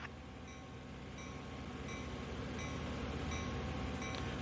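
Low rumbling drone of an SD-40 freight locomotive hauling a manifest train in Train Sim World 2, on the snowy Sand Patch Grade, steady and continuous with faint rhythmic clatter and no voices.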